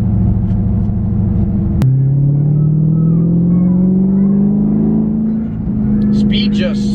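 A Dodge Charger Scat Pack's Hemi V8 revs hard after a sharp gear change, its deep pitch climbing steadily as the car accelerates, then settling briefly before pulling again.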